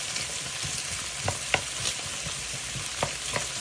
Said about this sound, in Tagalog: Yan, bawang sibuyas muna. Gisa-gisa.